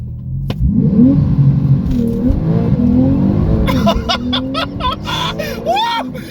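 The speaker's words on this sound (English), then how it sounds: "let's straighten out the wheel and then let's do a launch control" A Porsche Turbo S launches under launch control inside the cabin, engine roaring and climbing through the gears with brief shift breaks, while excited voices exclaim over the noise.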